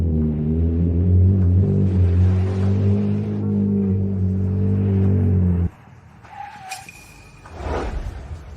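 A Ferrari's engine holds a loud, close, steady growl for about six seconds, then cuts off abruptly, leaving faint whooshes and brief rustles.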